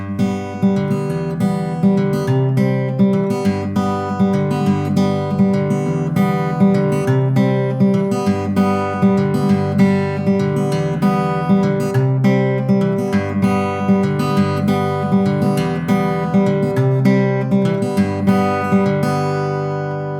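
Fingerpicked acoustic guitar plays the chorus of a song, a steady, repeating pattern of plucked notes and chords ringing at an even level throughout, with no talking.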